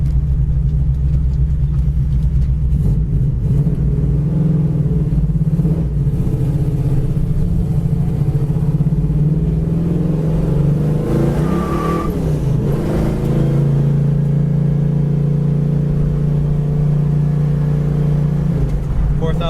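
A 1973 Dodge Challenger in Plum Crazy paint pulls away in second gear. Its engine gives a loud, steady rumble that climbs with the revs, eases briefly and then settles into a strong drone as the car keeps accelerating.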